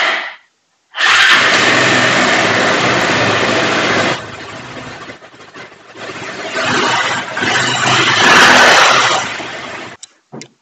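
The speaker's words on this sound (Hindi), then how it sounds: "तो गाड़ी को ऑन किया" A Bajaj Pulsar 180 motorcycle with a pickup and RPM fault cranks briefly on the self-starter, fires and idles loudly nearby, dips, then rises again before cutting off.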